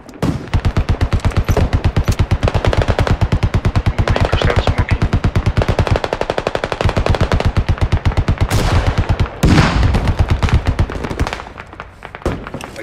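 Loud, rapid automatic gunfire during a video game battle, a fast steady stream of shots, broken near the end by a heavier grenade blast and a sputtering tail.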